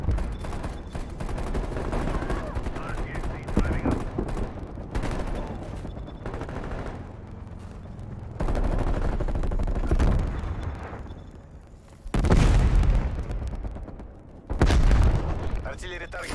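Incoming artillery barrage in a video game, heavy booming blasts and rumbling impacts recurring through the stretch with a few loud bursts near the end, while in-game radio voices call out over the fire.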